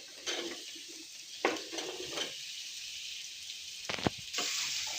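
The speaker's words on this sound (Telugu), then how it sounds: "సొరకాయ ముక్కలు అయితే వేసేస్తున్నాం." Bottle gourd pieces hit a hot pan with fried lentils and get stirred, giving bursts of sizzling and scraping spatula strokes, a few clinks of metal, then a brighter hiss near the end, close and without speech.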